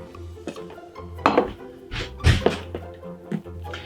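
Ganache worked vigorously by hand in a bowl without a whisk, giving scraping, knocking sounds with a few sharper clinks of utensil against the bowl, close and irregular.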